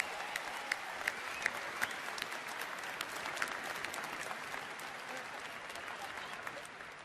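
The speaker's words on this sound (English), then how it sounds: "I'd like you all to give yourselves a huge round of applause." A large convention crowd at BlizzCon in Anaheim claps and cheers in sustained applause that stays dense and even throughout, heard from a distance in a big hall.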